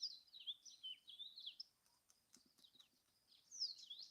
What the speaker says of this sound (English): I don't know if you can hear the birds today,